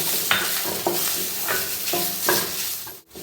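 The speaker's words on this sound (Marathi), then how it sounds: "आता आपण यात लगेच हा नारळाचा चव घालायचा आणि ते छान असा परतून घ्यायचा" Grated coconut sautéed in ghee with cloves and cardamom, a close, steady sizzle broken by several sharp spatula scrapes against the pan, with a brief dip near the end.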